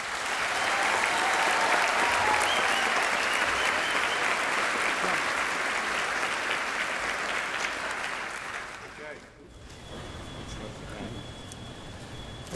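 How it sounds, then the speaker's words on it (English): An audience at a school district convocation applauds loudly and steadily for about nine seconds, then the clapping thins out as a voice begins speaking. "Please honor with your applause our 2013 Principal of the Year."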